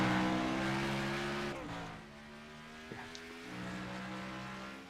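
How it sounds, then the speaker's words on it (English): A retro-liveried race car at an All-Star race of the NORA Retro Cup Series accelerates away, its engine note rising then dropping and receding with a steady drone continuing after. "Yeah, you hear him shoot off."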